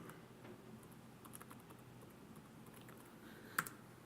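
Quiet, sparse clicks of typing on a computer keyboard during a cloud software demo, a few light taps spread across the stretch with one sharper click near the end, no talking.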